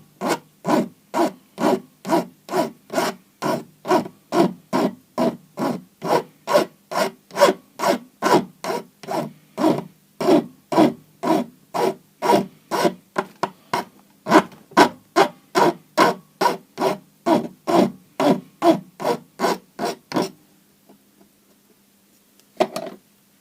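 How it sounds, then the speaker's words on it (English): Filing the freshly cut end of an HT ignition lead clamped in a vise: a steady run of about forty rhythmic rasping strokes, close and loud, then a brief pause and a last faint scrape. "I'll just tidy the end off in a vise."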